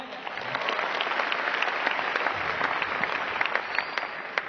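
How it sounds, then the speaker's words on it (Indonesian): At a seminar in Malang, an audience applauds in dense, sustained clapping that swells slightly and holds steady, filling the room. "Mohon aplaus untuk semua panitia."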